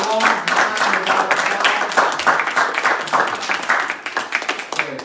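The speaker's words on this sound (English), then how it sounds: "it's time to give a round of applause to Seth and Bridget" An audience at a live open-mic reading claps for departing readers, a loud burst of applause with rapid overlapping hand claps that keeps going throughout.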